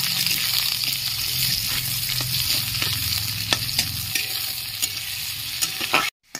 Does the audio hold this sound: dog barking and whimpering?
no